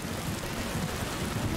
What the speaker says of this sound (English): Oh yes, the rain.